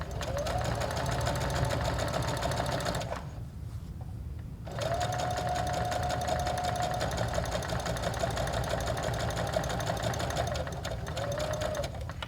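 A sewing machine stitching fabric for a dog bandana, a loud close steady whirring hum that stops briefly partway through, then resumes and runs continuously to the end.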